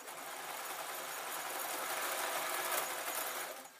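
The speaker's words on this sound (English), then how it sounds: "as close to the edge as I'm happy with, I'm just going to sew" A domestic sewing machine stitches a jelly roll quilt close to the fabric edge, giving a steady, fairly soft whirring run for nearly four seconds before stopping, with no voices.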